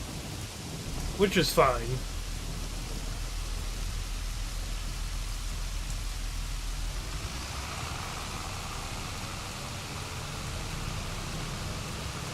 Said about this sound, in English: It's raining, so we can't do any harvesting contracts in the rain